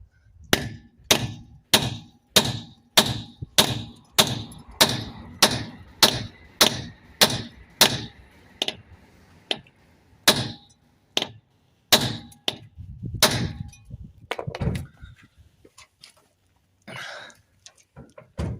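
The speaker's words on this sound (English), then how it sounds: "Now I'll use the hammer from the kit." A hammer strikes a metal wheel nut lock removal tool on a Renault Clio's McGard locking wheel nut in a steady run of about two dozen sharp, ringing blows at close range, slowing and becoming irregular toward the end.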